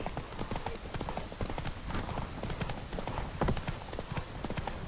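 Roach the horse gallops across Skellige in The Witcher 3, with rapid, rhythmic clip-clop hoofbeats that stay close and fairly loud.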